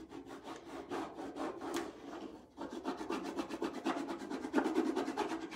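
A stick rubs a transfer onto metal in repeated scraping strokes, close and rhythmic, with a brief pause midway before the strokes continue.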